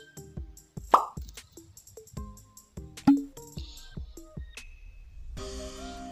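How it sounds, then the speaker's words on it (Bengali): Chopped onion and chili drop into a cabbage pakora batter in a kitchen, soft plops and wet thuds at irregular intervals, close and moderately loud, ending in a brief rustle. "সবার প্রথমে দিয়ে দিব পেঁয়াজ কুচি, মরিচ কুচি"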